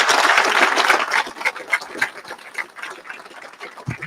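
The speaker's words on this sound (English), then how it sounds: "Let's give them a round of applause." Audience clapping at a graduation ceremony: dense, crowd applause that is loudest at first, then thins into scattered claps and fades.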